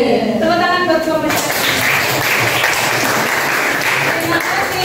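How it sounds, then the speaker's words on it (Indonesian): A classroom group of students breaks into loud, dense clapping for a student group, filling the room at close range, with voices mixed into the applause. "Tepuk tangan buat kelompok."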